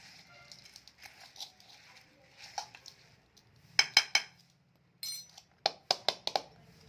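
Spoon clinks and scrapes in a bowl as masala puffed rice with spices and ingredients is mixed, a run of soft rustling taps then several louder sharp metallic knocks, close up.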